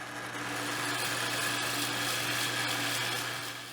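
A steady, close mechanical whir of a drill boring holes into plywood, constant in pitch for a few seconds, spinning up and winding down, no voices.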